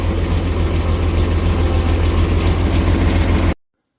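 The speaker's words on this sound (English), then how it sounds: "Little rev to get the alternator working." A vehicle engine idles on a cold foggy day with a little rev to get the alternator working. It is a steady, loud low rumble, close by and with no talk, and it cuts off abruptly near the end.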